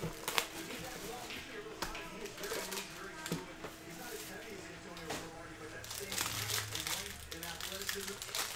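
Crinkly tearing and rustling of foil wrappers as 2019 Panini Playbook football trading card packs are ripped open at a box break, close and busy, with broadband crackles and snaps over a steady low hum, mixed with speech.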